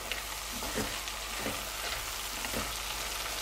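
Spicy beef chili sizzles in a pan as spices are stirred in, a dense, steady frying hiss with soft rhythmic scrapes of a utensil roughly every second, near and without speech.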